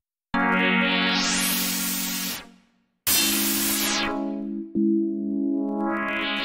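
FM synthesizer tones in Steinberg HALion 7 sweep from clean harmonic buzz into bright hissing noise, in several sustained swells separated by brief cutoffs.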